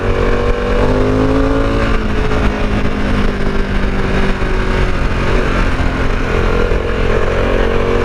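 A Harley-Davidson Pan America motorcycle on the road, its engine droning loud and close with wind roar, the pitch sliding gradually lower as the bike eases off and slows down.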